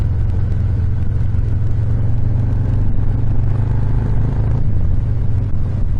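Harley-Davidson Softail Fat Bob exhaust with repacked straight-through mufflers, a steady, loud, deep rumble heard while riding, with no voices.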